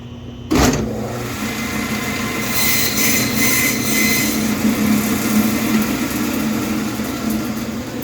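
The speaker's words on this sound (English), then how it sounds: "I go on the bandsaw and I recommend this one" A meat bandsaw cuts through beef short ribs about 2 inches thick, crosscut through the bone. After a sharp start it settles into a loud, continuous grinding whine with a screeching edge that lasts throughout, and no one speaks.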